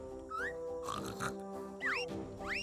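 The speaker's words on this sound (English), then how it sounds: "A truffle hunting pig?" A pig oinks in the Yooka-Laylee video game, with a few short squeaky grunts and rising squeals over a steady musical backdrop.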